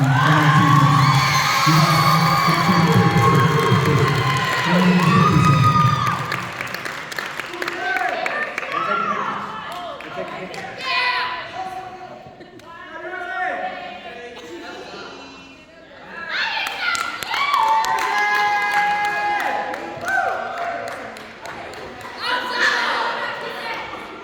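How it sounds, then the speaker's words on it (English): Audience at a school band banquet breaks into cheering, whoops and clapping, loud at first then easing into crowd chatter before a second swell of cheers and applause near the end. "Again, another round of applause for them."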